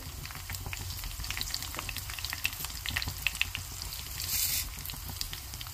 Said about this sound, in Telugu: కొంచెం ఆవాలు ఇవి బాగా వేగాలండి.